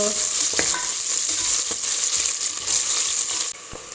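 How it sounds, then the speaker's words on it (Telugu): Onions and curry leaves fry lightly in a pan for South Indian rasam rice, making a dense, close sizzle with occasional stirring clinks. The sizzle softens abruptly near the end. "నెక్స్ట్ యాడ్ ఆనియన్స్ లైట్గా ఫ్రై చేద్దాం"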